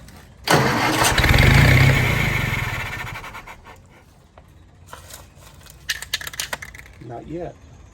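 A worn army generator engine cranking with a loud rumbling turnover that sputters and fades, followed by clattering knocks and a few rough stray bursts as it struggles to catch.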